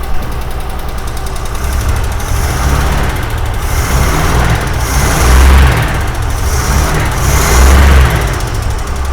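A 1961 Ford van, left sitting for over 30 years, with its engine running loudly up close, holding a rough steady idle that swells with several revs.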